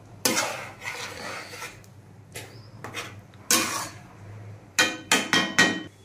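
A spoon scrapes and clanks through stuffed brinjal curry in a pan after liquid is added, Andhra style. The stirring comes in irregular, close bursts with short quiet gaps between them.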